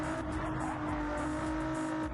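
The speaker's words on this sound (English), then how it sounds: "Hearing the roar of that Ford engine." Ford GT3 race car engine in a Daytona racing video game, a steady loud droning roar with a sustained tonal whine, held continuously without a pass-by dip and no talking over it.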